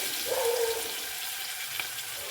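Sliced onions sautéing in oil in a pan with salt, a soft continuous sizzle with light stirring, a faint tone briefly rising over it early on.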